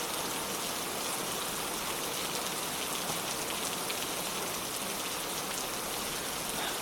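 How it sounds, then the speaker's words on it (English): Steady, dense rain falls in a constant wash of hiss that holds even, with no voices over it. "Can you stop the rain, please?"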